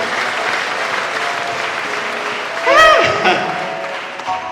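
An audience applauds during a church service, a steady loud wash of clapping from many hands that fills the whole stretch, with a brief voice cutting through near the middle.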